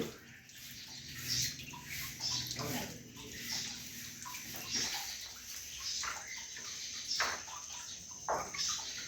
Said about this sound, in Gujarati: આ પથ્થર અને શિલામાંથી પાણી આપ સતત નિરંતર ટપકતું માણી શકો છો